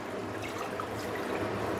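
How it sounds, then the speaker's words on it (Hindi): Water being poured into washed, soaked rice for Pakistani-style chicken yakhni pulao, a steady continuous splashing pour with no pauses, fairly loud and close. "अभी इसमें मैं पानी डालने लगा हूँ यखनी"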